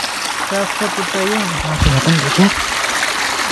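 A small stream flows over a shallow riverbed, giving a soft, constant trickling wash in the background while a person talks over it nearby.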